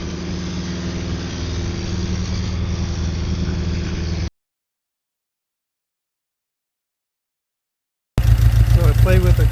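Restored 1955 Triumph TR2 engine running on first start for cam break-in: a loud, steady idle drone that stops for several seconds, then returns as a harsher, throbbing run.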